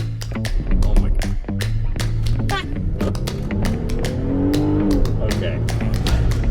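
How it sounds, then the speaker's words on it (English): A Jeep Gladiator with the 3.6L Pentastar engine spins its tires on gravel as it pulls away, a steady loud engine roar with crunching, ticking grit bursts throughout. "I spun my tires pulling out on the gravel"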